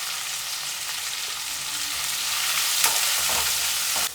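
Onion, ginger and garlic sautéing in a hot pan, a continuous close sizzle with occasional scraping stir strokes, no talking.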